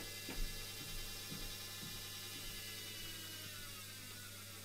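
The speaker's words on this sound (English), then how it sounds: "now that motor slowing down is the drag of the braking, fighting against the other one" A DC series wound motor winds down under regenerative braking, a faint mechanical whir with a ratcheting, gear-like texture and a steady electronic tone beneath, fairly quiet and without talk.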